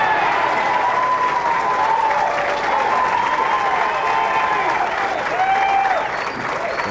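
A capacity crowd at a 1997 professional bowling championship match applauds a shot, loud continuous clapping with a commentator talking over it before it tapers at the end.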